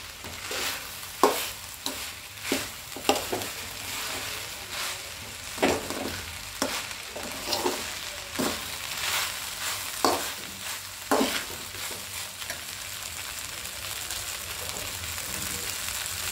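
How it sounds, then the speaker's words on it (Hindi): Rice being stirred and tossed with vegetables in a pan for homemade Schezwan fried rice: repeated sharp scraping clatters of a spatula over a constant frying hiss, close and fairly loud. "चावल को अच्छे से घुमाते सारे सब्जियों में मिक्स करते इसे।"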